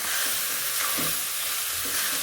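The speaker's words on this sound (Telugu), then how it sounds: "పాస్తా వేసాక ఒక్కసారి ఇట్లా కలుపుకోవడం అనమాట" Pasta sizzles loudly in a hot pan while being stirred and tossed, a dense, steady frying hiss close up with low scraping movement underneath and no voices.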